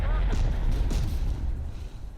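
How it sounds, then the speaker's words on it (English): Heavy explosions and cannon fire in Terminator Dark Fate Defiance roll and boom loudly, one deep blast after another that fades over a couple of seconds, with a voice talking faintly underneath. "A lot of explosions are going on."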